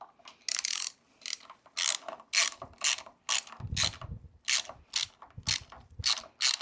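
A ratchet with a short 13 socket on a swivel works loose the fuel pump on a VW Beetle, giving a dozen quick bursts of crisp, close ratcheting clicks in a steady back-and-forth rhythm, with no talking.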